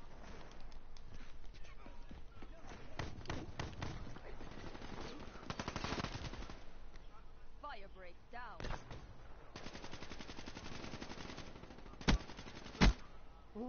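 Bursts of rapid annihilator gunfire in a PS4 shooter, rattling bursts mixed with game sounds and ongoing talk, followed near the end by two loud sharp bangs.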